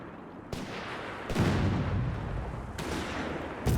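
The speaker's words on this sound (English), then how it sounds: "More shots there, more crumbling masonry here as Jibber shows no mercy." Loud, booming gunfire and heavy impacts in Company of Heroes 3 as a building's masonry crumbles, with four big blasts over a dense, continuous rumble of battle.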